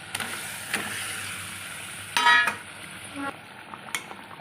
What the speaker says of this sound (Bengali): এর মধ্যে এবার আমি পটলগুলো ঢেলে দেবো